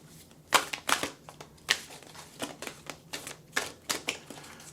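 A quick series of crisp oracle card shuffles, irregular clicks and riffles repeating every half second or so, close and moderately quiet, without speech.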